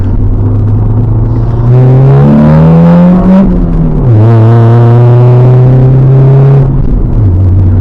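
A loud, close engine of a 1998 Honda Civic DX with a 5-speed manual revs up through the gears, pitch climbing, dropping at each shift, then rising again.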